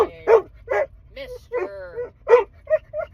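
Dog barking and yipping indoors in short, sharp bursts, several quick vocalizations with whiny, rising tones spaced irregularly over about three seconds, close and fairly loud with quiet gaps between.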